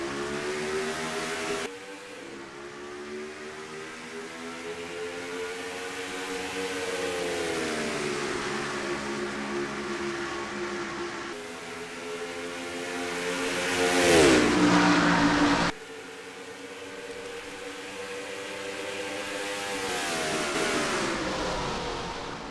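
Several race cars in a sim racing game accelerate away at the green flag of the Southwest 500K, engines droning steadily and rising in pitch as they shift through gears, with one louder close pass near the middle.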